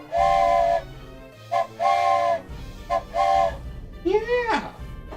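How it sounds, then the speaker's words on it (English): A train whistle, apparently a toy, played for a small child: several sustained, tonal hoots of varying length, loud and close, with a brief voice near the end. "You want to see the train whistle? Want to do the train whistle?"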